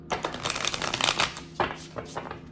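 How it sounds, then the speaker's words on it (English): A deck of cards is riffled and shuffled in quick bursts of crisp flutter, close and fairly quiet, with brief pauses between rounds. "watching me shuffle and pull cards"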